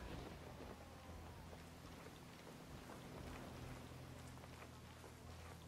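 Steady rain falls at night in the video game Ghost Recon Wildlands, a faint, even patter of drops with no voices over it.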